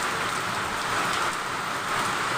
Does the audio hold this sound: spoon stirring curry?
no